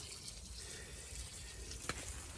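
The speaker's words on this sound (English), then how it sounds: "So now I've just got to water these tomato plants down through this side." Water runs steadily from a hose or can onto tomato plants in a garden, a faint continuous hiss and patter with a brief splash near the end.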